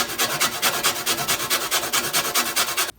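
An organic lemon is zested on a grater, giving a rapid, rhythmic rasping of quick even strokes, close and loud, with no talking.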